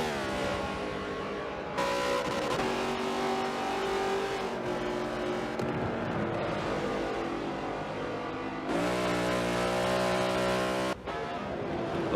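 Race cars in a NASCAR racing video game roar continuously with sustained engine revving and shifting pitch, loud and close throughout with no talk.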